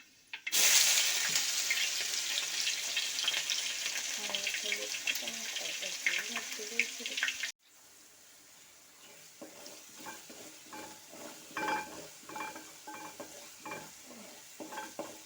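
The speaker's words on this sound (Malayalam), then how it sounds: "അപ്പം ഇനി നമുക്ക് ഇഞ്ചി വെളുത്തുള്ളി പേസ്റ്റ് ഇട്ട് കൊടുക്കാം" Ginger garlic paste dropped into hot oil in a pan for lubika pickle, bursting into a loud, bright sizzle that runs for several seconds before cutting to quieter frying with scattered stirring and scraping.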